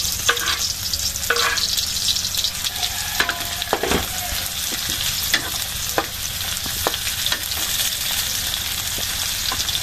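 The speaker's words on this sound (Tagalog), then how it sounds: "Nilagay na po ni mga kabayabas yung sibuyas, yung bawang, at yung luya." Onion, garlic and ginger sizzle steadily in hot oil, with bright crackling spatters and occasional stirring knocks close by, continuing without pause and with no talking.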